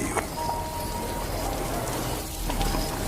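Stormy rain in a horror story setting, a steady dense hiss of downpour drumming on surfaces, continuous and fairly close, with no voices over it.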